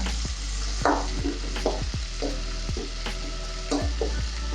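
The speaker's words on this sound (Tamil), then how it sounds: "இப்போ நம்ம ஒவ்வொன்றா போட்டுடலாம். கேப்சிகம் போட்டேன்." Capsicum and garlic stir-fry in a hot pan for veg Hakka noodles, with a constant loud sizzle broken by repeated scraping stirs of the spatula, close up and without speech.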